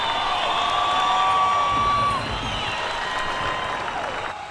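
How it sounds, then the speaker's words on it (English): A championship broadcast audience applauds and cheers in a steady, moderately loud wash of crowd noise that tapers slightly toward the end. "So give yourselves a round of applause."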